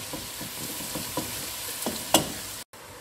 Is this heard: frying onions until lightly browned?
yes